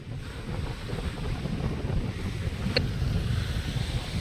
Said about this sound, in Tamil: அந்த கடலோட அலை பாருங்கள் அந்த அலை வந்து இந்த ஒரு இடத்துல அடிச்சு அடித்து